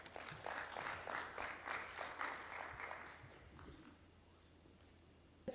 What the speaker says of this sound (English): Let's give another round of applause to His Excellency.